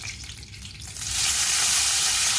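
Curry leaves and fenugreek seeds dropped into hot oil for a kingfish fry curry, a soft background sizzle that swells after a second into a loud, steady, close crackling hiss.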